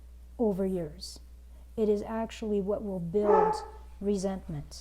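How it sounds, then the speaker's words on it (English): Dogs barking and yipping in several short bursts, fairly close, mixed in with a person speaking calmly indoors. "excuse my dogs, they're barky."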